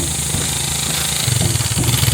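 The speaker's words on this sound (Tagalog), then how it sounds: "Gamit yung motor nila." Motorcycle engine running steadily nearby, a low rumble that grows a little rougher and louder toward the end, with faint voices in the background.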